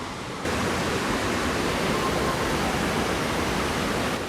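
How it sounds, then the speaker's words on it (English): Waterfalls at Cedar Creek Falls, swollen after heavy rain, pour with a constant, dense roaring rush that fills the air evenly from start to finish, close and loud with no pauses. "We've just had a lot of rain, so these waterfalls are really fantastic at the moment."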